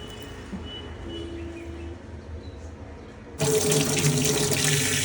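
Chillies washed under a running kitchen tap: a quiet background first, then water suddenly gushes loudly and steadily into the sink for the last couple of seconds, with no talk.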